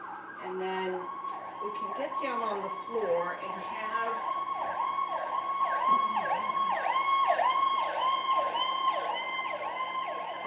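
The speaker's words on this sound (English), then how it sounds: "pardon that siren." An emergency vehicle siren wails outside in a repeating up-and-down cycle during an indoor yoga class, clearly audible under a woman's calm instructional speech.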